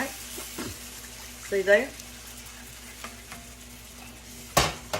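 Bacon tomato gravy cooks in a pan with a soft background sizzle while a utensil stirs and scrapes in short bursts, a few sharp clanks near the end, and someone briefly speaks over it.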